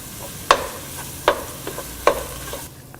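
Mutton curry masala with tomato and coriander leaves is stirred in a pan, with three distinct scraping strokes of the spoon over a low sizzle, close and clear, and nobody speaks.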